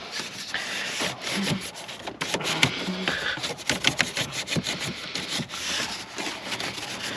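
Brush scrubbing inside a car's air vents during interior detailing, a continuous gritty rubbing with rapid back-and-forth strokes, close and fairly loud with no talking.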